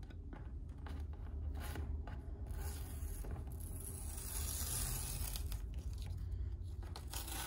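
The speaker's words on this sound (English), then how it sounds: "Take it off. All that tape." Tape is pulled slowly off the edges of paper around a finished watercolor painting, giving a close, quiet, continuous peeling and tearing rasp with a few brief pauses.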